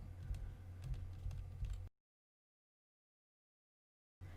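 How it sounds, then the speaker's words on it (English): Quiet computer keyboard key presses tap in a quick irregular series for under two seconds, then the sound cuts to silence. "by pressing the up key on my keyboard"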